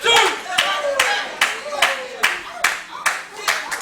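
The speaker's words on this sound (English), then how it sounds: "the crowd getting fired up, the crowd on their feet for the Hound Dog" Pro wrestling crowd at an AMP Wrestling Christmas Rumble event clapping in a steady rhythmic beat, roughly two claps per second, with cheering and a commentator talking over it.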